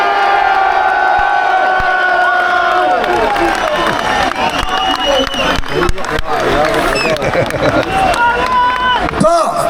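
A large rally crowd cheers and whoops for Northern Ireland at the Unite the Kingdom event, loud sustained roaring with shouts, chanting voices and scattered clapping throughout.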